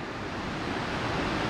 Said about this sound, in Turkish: Orada bir şelale var.